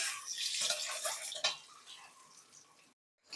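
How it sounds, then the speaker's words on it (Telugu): Boiled eggs fry in hot oil in a pan for egg curry, giving a soft steady sizzle with a few clinks and stirring noises, then a brief silence before a sharp clatter at the end. "ఎగ్స్ వేసుకొని ఎగ్స్ని వేయించుకోవాలి."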